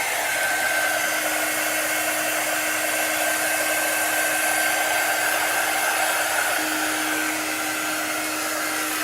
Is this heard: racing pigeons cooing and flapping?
no